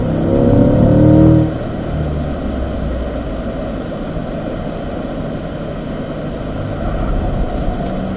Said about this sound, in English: Light brakes as I turn, get the car transition to the next side, then roll back to throttle.